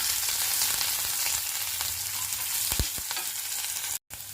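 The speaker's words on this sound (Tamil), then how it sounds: "வெங்காயம், கருவேப்பிலை, கொஞ்சோண்டு 2-3 வெள்ளைப்பூடு போட்டு வதக்குறோம்." Onion, curry leaves and a few garlic cloves sauté in a pan for a capsicum poriyal, a steady close sizzle broken by occasional stirring knocks and a brief drop in sound near the end.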